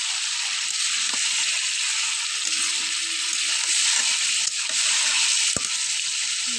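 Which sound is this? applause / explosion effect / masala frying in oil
masala frying in oil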